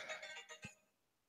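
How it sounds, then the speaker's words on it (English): A phone ringtone chimes in a few quick bright repeated bursts, fairly quiet, then cuts off and fades into room quiet with no talking. "that was my phone"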